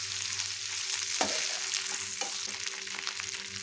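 Chicken pieces stirred and frying in garlic butter in a pan, a continuous dense sizzle with occasional scraping knocks from the spoon.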